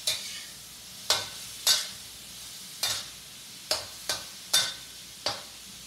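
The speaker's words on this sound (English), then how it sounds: "Give it a quick saute." Shrimp sautéed over medium-high heat for shrimp and egg drop gravy, with a steady sizzle beneath a series of sharp utensil scrapes and stirs arriving every half second to second, close and clear, with no talking.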